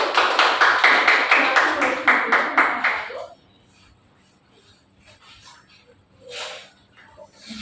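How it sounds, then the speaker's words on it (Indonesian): Classroom audience at a microteaching session clapping for the first presenting group, a few seconds of steady, fairly loud rhythmic claps that stop abruptly, followed by quiet room noise and a faint voice. "Silakan beri tepuk tangan kepada kelompok 1."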